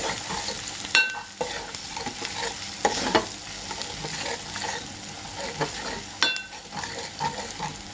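Onions and curry leaves with chili powder being stirred in a pan for chicken pakoda curry, soft frying sizzle punctuated by irregular scrapes and taps of a ladle against the pan, close and fairly quiet, no speech.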